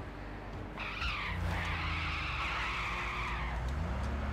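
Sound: car crashing and rolling over in Gran Turismo 6 video game

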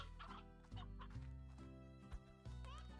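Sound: chickens clucking in Slime Rancher video game

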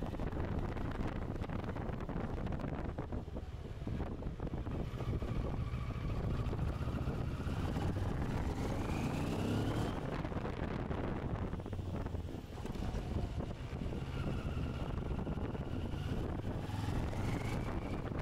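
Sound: CF Moto 650MT motorcycle riding under throttle

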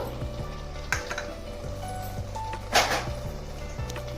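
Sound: five tablespoons of milk added to simmering prawn pulao

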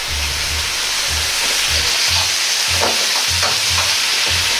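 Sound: cabbage and fried tofu stir-frying

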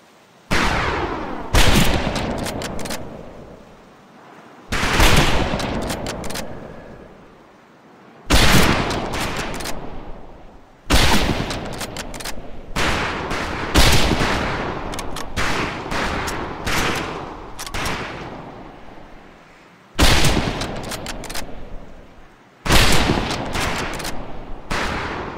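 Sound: rifle gunfire at firing range in video game Medal of Honor: Pacific Assault

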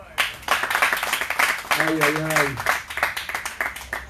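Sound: audience clapping

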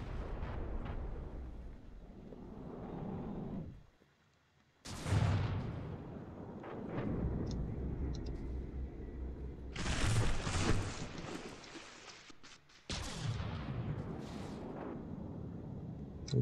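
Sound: naval ship gunfire with shells, from a video game

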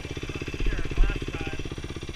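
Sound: motorcycle riding in first gear

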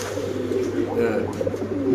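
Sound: male short-face pigeon cooing

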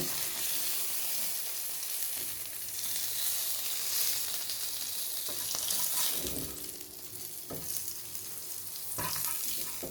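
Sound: fish frying in oil

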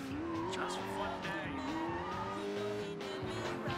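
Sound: car driving with tires squealing in Sleeping Dogs video game

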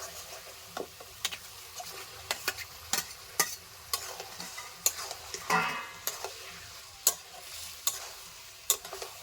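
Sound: pork pieces frying in spice masala

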